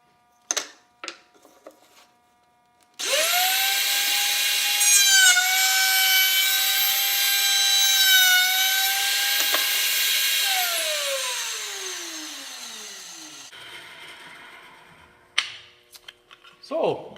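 A power tool cuts relief cuts into wooden side and end pieces for a keepsake box. It makes a loud, steady whine lasting about ten seconds before winding down, with a few brief knocks and clicks before and after.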